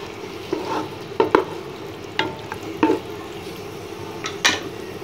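Chicken frying with yogurt in a pan, a steady close sizzle under intermittent scraping and clanking of a spoon stirring against the pan.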